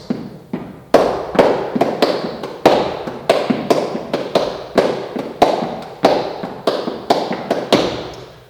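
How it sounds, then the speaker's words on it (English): An Afro-Cuban cascara rhythm played as sharp, dry percussive taps in a steady syncopated pattern, loud and close, each stroke decaying quickly with no voices. "It's a Cascara rhythm."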